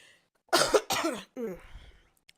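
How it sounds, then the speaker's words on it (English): Two harsh coughs in quick succession, close and loud, followed by a rougher throat-clearing rasp. "I'm gonna try not to cough in the mic all night."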